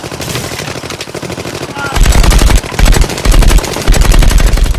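Gunfire in a shootout from the film The Raid (2011): bursts of loud, heavy shots over a busy film soundtrack, with a voice talking under the earlier part.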